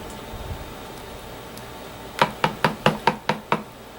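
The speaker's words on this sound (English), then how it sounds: "I'm just stirring this up" Spoon stirring MRE food in a tray, a rapid series of about seven sharp, evenly spaced taps and scrapes close by after a quiet stretch.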